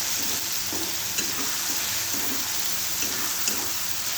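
Tomato chutney being stirred in a hot frying pan, a steady loud sizzle with soft repeated scraping strokes of the spoon throughout, close up and without speech.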